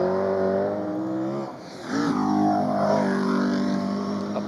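A 6-litre V8 Carlton Thunder Saloon race car accelerates at a hillclimb, its engine note climbing through the gears with a brief dip between shifts, loud and fairly close, with no talk over it.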